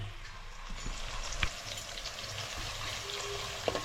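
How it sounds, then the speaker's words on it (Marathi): Chopped onion frying lightly in oil for a Mumbai-style prawn and drumstick dish, a steady soft sizzle with a faint crackle throughout and a couple of brief utensil taps. "कांदा तेलामध्ये हलकासं शिजवून घ्यायचं आहे"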